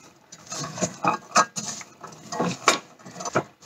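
Two cups of soya beans are stirred in a bowl for tempeh, a light, irregular patter of clattering beans against the bowl, close and fairly quiet, with no talking.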